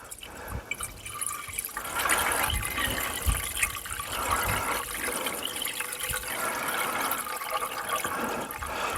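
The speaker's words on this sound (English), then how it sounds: "Right, putting our coolant that we took out." Coolant is poured back into a Jaguar XF 2.7 or 3.0 diesel engine after a water outlet repair, making a steady close-up trickle and gurgle of liquid that runs continuously with no talking.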